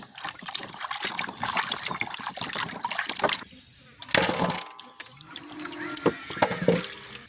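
Cassava roots washed by hand in water in a village setting, with continuous splashing, trickling and sloshing close up, a few brief pauses and bursts of dripping throughout.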